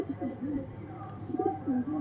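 A pigeon coos close by, giving a few soft, rounded coos in two short bursts.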